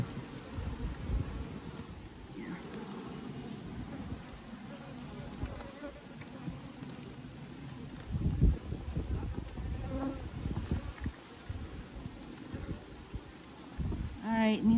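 Honey bees swarm and buzz around an opened Layens hive in October, a dense, fluctuating hum with individual bees whizzing close past the microphone, light wind noise and occasional handling sounds.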